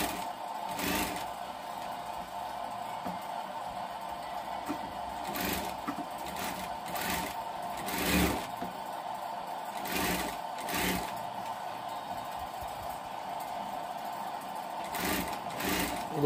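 An electric sewing machine stitches umbrella fabric, running a steady mechanical hum broken by short bursts of rapid needle clatter as the stitching starts and stops repeatedly, close and clear with no voices.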